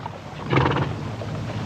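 A horse whinnies briefly in a 1971 western film, a short breathy neigh rising and fading over a faint outdoor background.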